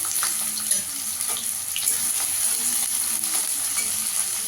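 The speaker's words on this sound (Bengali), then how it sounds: "পেঁয়াজটা একটু লাল লাল করে ভেজে নেব" Chopped onions fry in hot oil with a constant hissing sizzle and scattered crackles, fairly close and steady throughout, over a high-pitched whine in the background.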